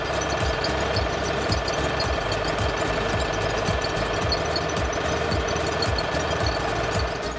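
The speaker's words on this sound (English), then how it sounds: "gonna let it run at low RPM just to circulate the oil in." A Honda generator runs at low RPM during routine maintenance, giving a loud, close, steady engine drone with a fast, even knocking pulse that carries on throughout.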